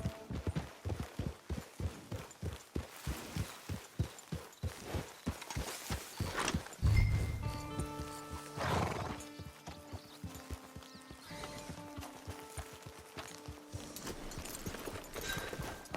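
Horse in the Red Dead Online video game: a steady run of clip-clopping hooves that slows, then a loud whinny midway, followed by soft ambient game sounds with a faint musical tone.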